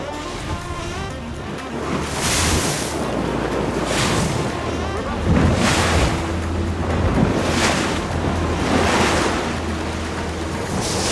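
Continuous wind roar and rolling ocean surf surround a boat 40 miles offshore of Cape Town during a tuna fishing derby. The noise is loud and steady, with periodic swells of breaking water and no voices.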